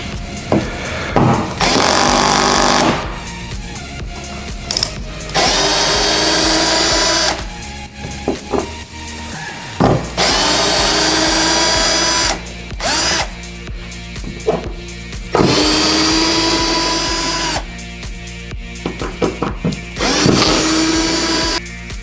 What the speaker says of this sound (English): and drill those holes.